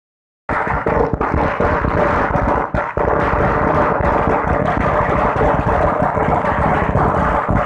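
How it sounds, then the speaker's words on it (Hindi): Congress party workers celebrating Kamal Nath's appointment as chief minister set off firecrackers near Nehru Park in Guna, making a loud, dense, unbroken crackle of rapid bursts that starts abruptly and keeps going. "नेहरू पार्क के पास कांग्रेसियों द्वारा पटाखे फोड़े गए"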